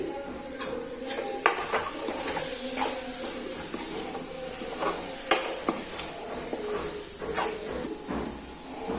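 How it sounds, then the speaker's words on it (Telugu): Okra pieces with masala fry in a pan, giving a steady broad sizzle with repeated scraping and clinking of a spatula against the metal pan, fairly close and with no talking. "ఈ బెండకాయ ముక్కలు ఈ మసాలా బాగా ఫ్రై చేయాలి."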